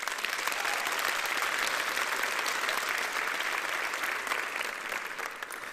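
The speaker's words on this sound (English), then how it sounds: "So please, give yourselves a round of applause." A large audience at a nursing program graduation ceremony applauds in a dense, continuous roar that holds steady and then eases slightly toward the end.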